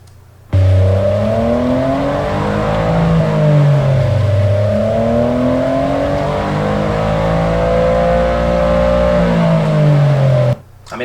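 Toyota Corolla GR engine revved repeatedly, a close, loud growl rising and falling in pitch over several throttle blips before cutting out.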